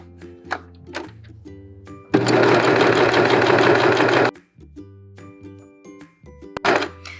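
A sewing machine stitches sock fabric along a curved seam, one steady loud burst of motor hum and needle chatter lasting about two seconds, set between quiet handling clicks and thumps.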